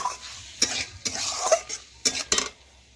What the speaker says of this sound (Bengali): আবারও কিছুক্ষণ কষেও নেব।